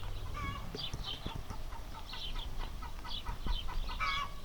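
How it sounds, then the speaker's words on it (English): A laying hen squawks and clucks repeatedly in an uneven, insistent rhythm after producing an egg, close by, over a low rumbling farmyard background with no talking. "when a chicken lays an egg, it'll just squawk for a while and let you know"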